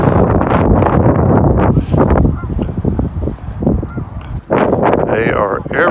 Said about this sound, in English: we've got a Canadian geese convention down here next to the Great Miami River